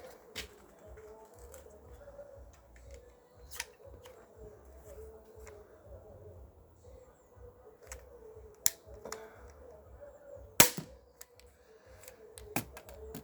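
An Armex Tomcat 2 crossbow is cocked and fired outdoors, giving several sharp, separate clicks and snaps spread across the stretch over a low steady background, with one especially loud crack near the end.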